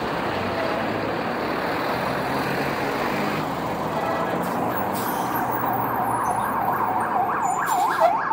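An ambulance siren wailing through street traffic on Avenida Cuauhnáhuac in Cuernavaca, Mexico, rising and falling in rapid yelping sweeps that grow louder toward the end over a rumbling bed of passing vehicles.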